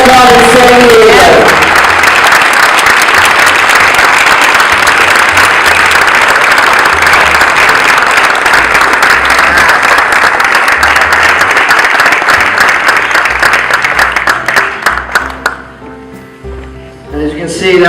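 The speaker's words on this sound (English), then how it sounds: "let's give a nice big round of applause" An audience at an honoring event by a San Diego TC bursts into sustained, loud applause, dense clapping filling the room for about fifteen seconds before trailing off into scattered claps.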